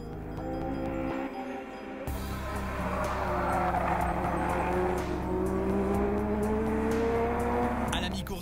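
Legends race cars roar around the Paul Ricard circuit during a race, engines loud and close with rising and falling pitch as they pass, while a commentator talks over them.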